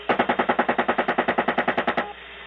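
Helicopter machine gun firing on a van in Iraq, heard as a rapid, evenly spaced burst of about fifteen loud shots that stops abruptly, followed by a low engine drone.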